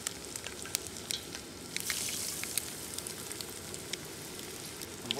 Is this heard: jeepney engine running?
no